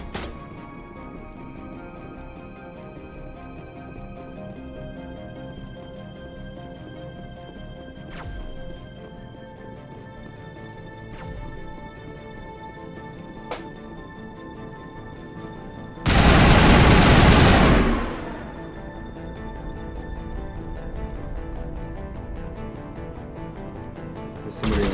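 Gunfire in the video game Mass Effect: a steady low rumble of combat with scattered sharp shots, then a loud burst of dense, crashing fire near the end.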